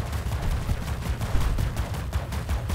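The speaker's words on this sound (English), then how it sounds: "I think I just fire the death beam at the middle robot" A robot's death beam fires in the mech battle game WR Frontiers. It sounds as a dense, rapid stream of crackling pulses that rattles on without a break, close and loud, with no voices over it.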